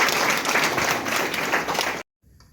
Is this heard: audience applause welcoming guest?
yes